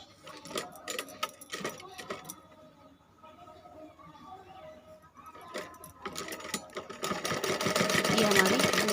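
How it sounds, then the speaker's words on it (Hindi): A sewing machine stitches a bag made from old trousers, starting with scattered handling clicks and clatter, then building into a close, continuous rattling hum of fast needle strokes toward the end. "अब हमें दूसरे पार्ट पर भी इसी तरह से सिलाई लगा देनी है।"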